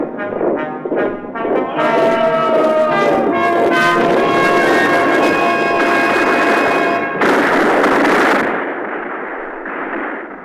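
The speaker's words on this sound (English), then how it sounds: "Let's hear those cannon." Cannon fire from a fort in an audio drama battle scene, a dense, continuous roar of repeated booms and blasts layered with ringing tones, loud throughout before tapering off at the end.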